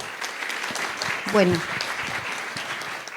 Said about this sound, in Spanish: Con ustedes, Patricia Redondo, pido fuerte el aplauso.